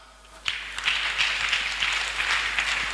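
A church congregation breaks into steady applause, a dense patter of many hands clapping that starts abruptly and holds at an even, fairly loud level.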